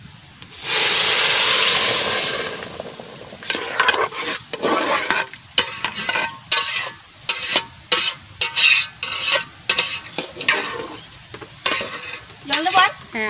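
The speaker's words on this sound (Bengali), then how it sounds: "এবারটা আমি জল দিয়ে দিচ্ছি।" Water is poured into rice frying in a pan for fish biryani, giving a loud rushing hiss at first, then bursts of sizzling and stirring scrapes in an uneven rhythm, close and with no talk.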